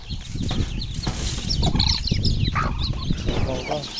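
Newly hatched chicks and a hen on a rural province farm, continuous high peeping and clucking close by, with wing flutters and shuffling, and a person speaking briefly in the background.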